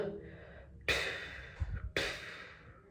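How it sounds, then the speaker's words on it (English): Two sharp, deep breaths drawn in from the belly, as before playing the flute, each a quick rushing inhalation close to the microphone, with a brief pause and a soft voice between them. "take a deep breath from the bottom of our belly, kind of like we're breathing, we're sucking from a straw"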